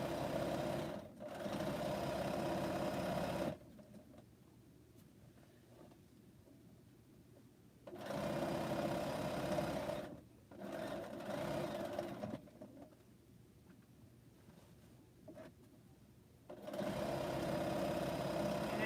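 A domestic sewing machine stitches the center of a quilt top in steady, continuous bursts of motor hum, running in several long stretches separated by quiet pauses.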